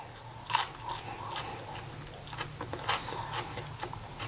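Someone bites into a French bread pepperoni pizza with a few crisp crunches against a quiet room, followed by soft chewing and small clicks, with no talking.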